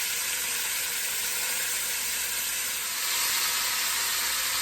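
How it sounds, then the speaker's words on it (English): Oxtail pieces browning in a hot pan as the fat renders, a constant dense sizzle and hiss that holds steady and swells slightly toward the end, with no talking. "So we're going to get these browned up."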